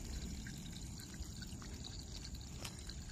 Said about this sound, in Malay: Ni kita siram air, kasih air.